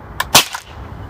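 A single short, sharp BB gun shot fired at an Apple iPhone, a quick snap with a faint click just before it, heard close up and alone.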